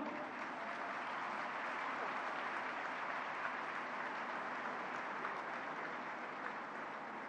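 An audience applauding at a ceremony speech by the Governor of Sindh: a sustained wash of clapping from a large crowd, even and continuous, heard at a distance and fairly soft.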